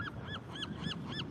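Goose-like birds honk in a quick regular series of about five calls, fairly faint and distant over a soft background hum, with no one speaking.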